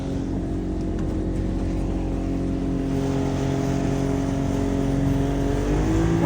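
An outboard motor on an old boat runs with a fuel problem and air in the fuel line, its engine droning loud and close with uneven, wavering pitch that climbs toward the end.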